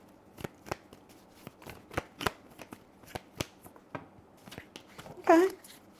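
A deck of tarot cards is shuffled close up, making a run of sharp, papery riffles and taps in an uneven rhythm. A brief voice cuts in near the end.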